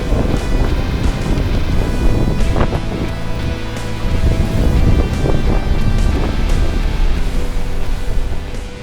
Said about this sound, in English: Seems a little bit more sheltered from the wind.